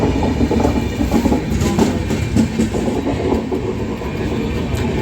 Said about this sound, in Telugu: మనకి పైన అయితే ట్రైన్ కూడా వెళ్తుంది, కిందన టనల్ ఉంది.